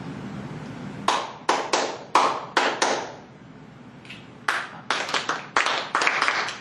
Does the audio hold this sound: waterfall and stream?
no